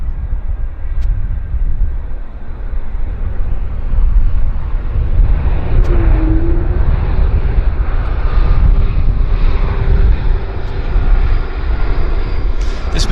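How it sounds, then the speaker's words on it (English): Airbus A220, formerly the Bombardier C Series, at Vancouver airport, heard as a steady, broad jet engine roar with a faint whine, loud and continuous throughout with no talk. "This looks like an A220 or Bombardier C Series."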